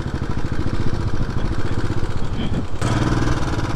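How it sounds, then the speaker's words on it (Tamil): Heavy vehicle traffic on the broken-up highway near Manali during a Ladakh motorcycle ride. Continuous close engine rumble with rattling clatter, briefly dipping before picking up again near the end. "எக்கச்சக்கமாக வண்டி வருதுப்பா சாமி"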